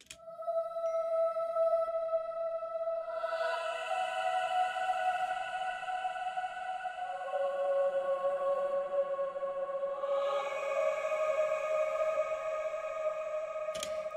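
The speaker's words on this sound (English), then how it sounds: "I added this like choir layer to go with the pad." Synth choir layer from Pigments stacked over a soft pad, sustained airy chord tones with shimmer and delay, a second chord entering midway, quiet and smooth throughout.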